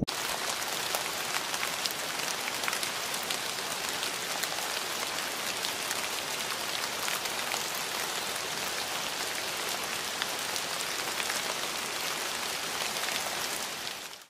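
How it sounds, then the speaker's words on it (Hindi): Steady rain falls and patters on surfaces in Bangalore, a dense, even hiss that continues without a break. "बारिश भी होनी शुरू हो चुकी है"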